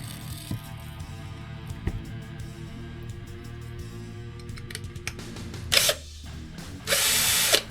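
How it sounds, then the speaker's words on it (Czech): Power drill boring the entrance hole in a birdhouse built from scrap wood, short whirring bursts near the middle and end after scattered clicks and handling knocks, close and fairly quiet. "Jdeme vrtat vletový otvor."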